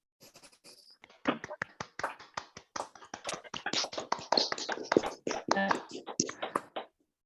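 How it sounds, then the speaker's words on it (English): Audience applause at a government digital services show-and-tell event, a burst of many hands clapping that builds after a quiet start and carries on steadily, close and fairly loud, then cuts off. "If we can have another big round of applause for both of them."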